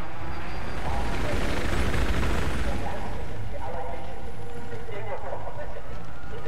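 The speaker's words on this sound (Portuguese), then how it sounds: "Aquele helicóptero não parece coisa boa." A helicopter in the Battlefield 4 video game, a loud, continuous rotor and engine roar mixed with distant gunfire, dense and steady throughout.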